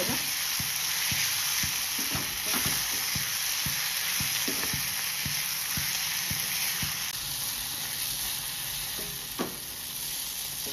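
Garlic and coconut roasting in a hot pan for masala vaangi, a dense continuous sizzle with regular scraping strokes of a spatula, close and loud with no talk.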